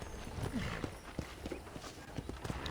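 Horse hooves clip-clopping at a steady walking rhythm on a ranch in an old-America video game, moderately close, with faint background ambience and no talk.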